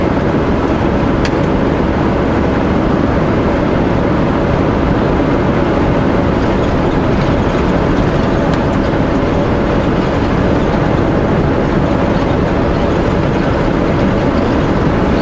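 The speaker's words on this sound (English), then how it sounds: "we're basically driving in a riverbed here, climbing out of the riverbed now" Vehicle driving along a dry, rocky riverbed and climbing out of it, a steady rough rumble with crunching and jostling throughout, fairly loud and continuous with no voices.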